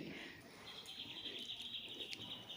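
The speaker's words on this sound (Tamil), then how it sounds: "பூவில் வந்து தேன் இருக்குது அதை குடிக்கிறதுக்கு குருவி வந்து குடிச்சிட்ருக்கு பாருங்கள்" A tiny sunbird-sized bird visiting flowers on a small tree to drink nectar, with thin high chirps and a steady bird trill heard faintly against quiet outdoor background.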